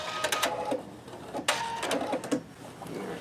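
Pfaff Creative Vision sewing machine stitching an automatic buttonhole, heard as a run of quick mechanical clicks and motor bursts at close range, with short pauses between them and no voices.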